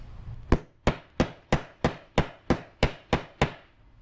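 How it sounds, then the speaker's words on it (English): Ten sharp, evenly spaced hammer blows ringing out close by, each driving in a rivet nut and followed by a brief decay. "hammer it in like so"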